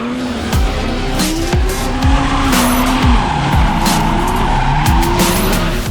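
Drift cars, a Toyota Supra and an Opel GT of about 800 horsepower each, skid at an event with continuous tire squeal over roaring engines, revving up and down with repeated gear changes, loud and close, no talking.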